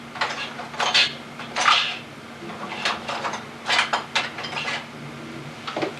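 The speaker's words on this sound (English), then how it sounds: "to help hold it down while I'm carving on it, I use a jar lid" A jar lid clinks and clatters against a clay pot on a potter's wheel, set down to hold the pot steady for carving, with several sharp light knocks and scrapes, close and fairly quiet.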